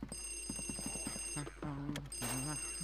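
A telephone rings in the video game Luigi's Mansion: a quick run of rhythmic ringing pulses, followed by warbling tonal game sounds, all fairly quiet.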